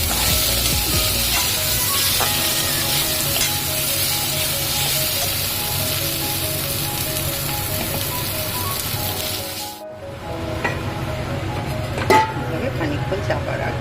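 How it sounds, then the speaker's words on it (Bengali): Chicken gizzards being fried again in a pan for a spicy gizzard curry give a steady, loud sizzle and hiss that cuts off near the end, leaving a quieter stretch with a sharp clink. "আমি গেরিগুলো দিয়ে আরেকবার কষিয়ে নেব"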